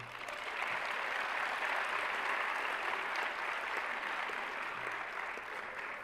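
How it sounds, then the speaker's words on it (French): An audience at a women-in-STEM forum applauds steadily and evenly, a dense wash of many hands clapping at a moderate distance with no break. "Je vous demande de l'applaudir."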